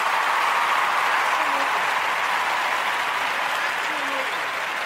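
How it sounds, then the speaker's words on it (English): Audience applause during a talk on politics and race fills the whole stretch as a dense, steady wash of clapping, with a few faint voices mixed in. "Could I get a hand clap for"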